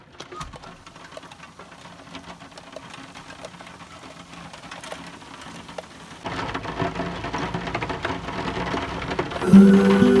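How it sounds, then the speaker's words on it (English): Steady rainfall during a lockdown-period stay in a van, a soft continuous patter that grows louder and heavier toward the end, with no voices. "Hopefully it'll stop raining."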